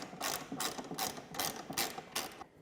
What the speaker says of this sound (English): With my T40 and a ratchet, I can get down to the front bulkhead bolts that hold the bumper on